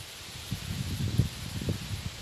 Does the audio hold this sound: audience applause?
no